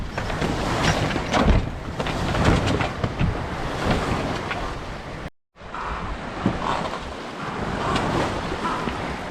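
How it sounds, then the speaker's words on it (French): Waves of the Melvan slosh and surge against a sailboat's hull off Brittany amid strong wind noise buffeting the microphone, continuous and close, with a brief dropout midway. "Ah, là, les vagues du Melvan."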